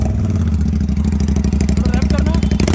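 A motorcycle engine runs with both exhausts removed, giving a loud, steady, raw rapid-fire throb with a clattering edge and slight rises in pitch, close by.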